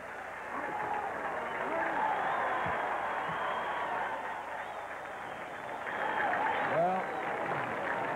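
A large golf gallery at the U.S. Open at Oakmont applauds and cheers on the 18th hole, a loud sustained roar of clapping, with a commentator's voice over it.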